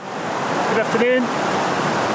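Steady broadband rush of Tyndall Creek flowing in the High Sierra wilderness near Forester Pass, continuous and fairly loud, with brief faint voice-like tones partway through.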